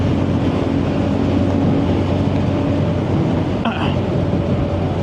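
A TVS Ronin motorcycle fitted with a 14-tooth sprocket picks up speed on the road. Its engine drones steadily under loud, constant wind rush, close to the rider, with a brief click near the end.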